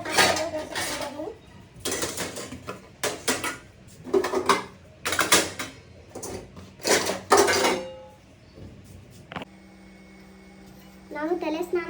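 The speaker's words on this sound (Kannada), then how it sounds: "ಅದಕ್ಕೆ ಅವ್ರು ತೊಳೆದಿರೋ ಪಾತ್ರೆ ಜೋಡಿಸಿದ್ದೀನಿ." Washed steel pots and dishes are stacked and arranged in a home kitchen, with repeated close clanks and clatters in bursts, then quieter ringing tones as the handling stops.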